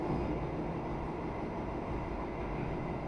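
An Argo Muria passenger train takes a big curve before Tegal station, heard from inside as a steady, loud rumble and roar of wheels on rail with no talk.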